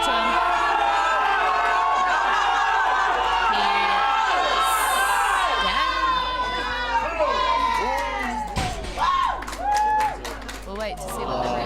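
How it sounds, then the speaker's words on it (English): A crowd at a weightlifting championship cheers and shouts loudly and continuously, with whoops and claps rising and falling and a few voices calling out over the din. "The crowd gives it to him"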